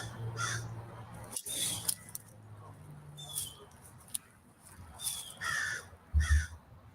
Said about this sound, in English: I'm getting hollered at by a bunch of crows here